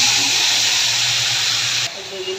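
Eggplant frying in hilsa fish oil in a pan, a loud, steady broadband sizzle and hiss that drops slightly near the end, with no voices over it.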